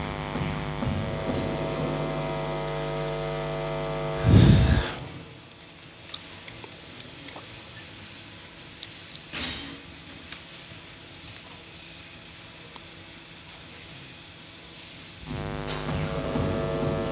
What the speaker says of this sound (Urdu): یو پی ایس جو ہے یہ اس لیے بند ہو رہا ہے کہ یہ پنکھے چل رہے ہیں